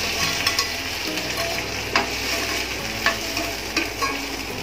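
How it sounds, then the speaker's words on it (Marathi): Boiled peanuts tipped into a hot frying pan sizzle steadily while a spoon stirs them, with a few sharp scraping knocks against the pan over the frying hiss. "आता आपण हे उकडलेले शेंगदाणे यामध्ये घालूया."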